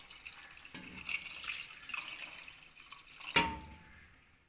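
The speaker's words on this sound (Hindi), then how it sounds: "अब इसमें पानी शामिल करेंगे। ये चनों वाला ही पानी है," Water is poured into a pot of roasted chickpeas for Lahori chikar cholay, a steady close splashing pour with a sharper splash near the end and no talk.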